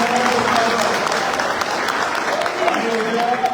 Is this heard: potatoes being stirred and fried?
no